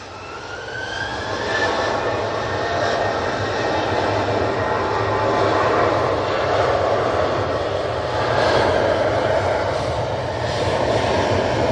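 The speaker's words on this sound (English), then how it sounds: "So that Aer Lingus is now just passing Hyde" An Aer Lingus airliner passes overhead near Manchester Airport during stormy weather, a steady broad engine roar holding loud and even throughout with no voices.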